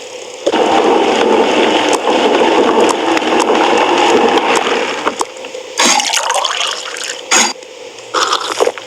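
Juice is poured in the Toca Life World video game, giving a loud, close liquid pouring and filling sound for several seconds, followed by a few short squishy splashes and drips.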